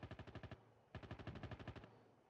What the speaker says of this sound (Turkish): şu mavi binanın içinde birileri çatışıyor